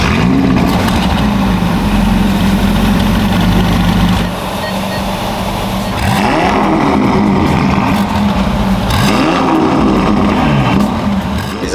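Ferrari California twin-turbo V8 firing up close by, a heavy rumble that drops to a settled idle and then swells with two revving blips that rise and fall.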